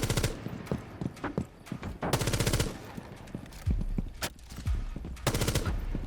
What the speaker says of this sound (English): He just tried to shoot them through the wall.